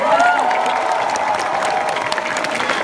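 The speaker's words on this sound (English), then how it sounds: "Charlotte, let's clap for Diva, yo." Audience applause fills the space, a dense wash of clapping with some cheering mixed in, steady and loud for a few seconds.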